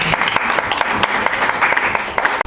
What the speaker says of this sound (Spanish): Por fuertes aplausos.